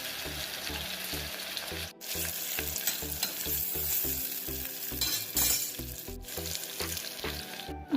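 Chopped onions fry in oil inside a pressure cooker for a beef dish, giving a steady close sizzle under a regular rhythm of stirring strokes scraping the pot, with one or two brief pauses.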